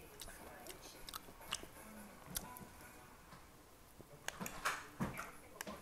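Close, crisp crunching bites of fried potatoes come in irregular bursts, with quiet rustling and faint murmurs in between.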